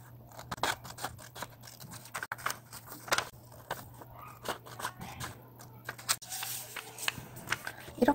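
Scissors snip steadily through colored origami paper, a long run of quick, close crisp cuts with small pauses, heard alone at a soft level.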